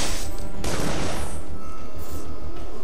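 A loud cannon blast bursts out in Dungeon Siege III, followed by rattling, crashing impacts and a second sharp report, set against a steady low rumble on a mountain path.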